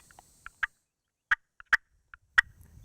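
Hen turkey clucking call from Florida wild turkeys: sparse, sharp, single clucks spaced irregularly about half a second apart, close and clear against near silence.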